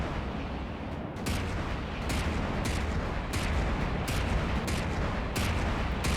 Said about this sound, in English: That other turret's also opening up.